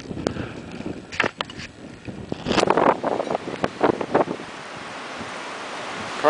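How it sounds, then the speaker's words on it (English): A big wind gust roars through a snow blizzard, broadband rushing that builds and buffets the microphone, with a few scattered thumps and rustles. "Here comes a big wind gust."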